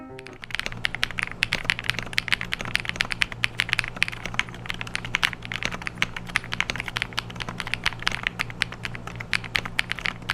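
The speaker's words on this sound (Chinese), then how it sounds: "就让这把键盘来作为今天的收尾，让我们听听它的打字音吧" Rapid typing on an Ilovbee B87 mechanical keyboard, a second-hand unit sold broken, gives a dense, even stream of close, crisp key clacks with no talking.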